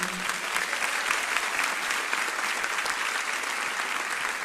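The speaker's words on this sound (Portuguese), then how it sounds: "Dá uma salva de palmas para Jesus aí nessa noite." An audience at the WE ARE ONE 2019 church conference claps for Jesus, a steady, dense wash of applause from a large crowd that fills the whole span at even loudness.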